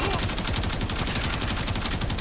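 Karak Wraith rifle fire in Warframe rattles out as an unbroken rapid stream of evenly spaced shots, loud and close, continuing steadily throughout.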